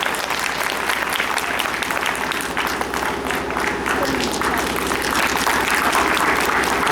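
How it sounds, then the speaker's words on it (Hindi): A crowd at a Gou Katha religious gathering in Auraiya, Kanpur, claps fast and loud together, a thick, even roar of hands that runs without pause throughout. "ये कम से कम तालियां तो बजा दीजिए तेजी से।"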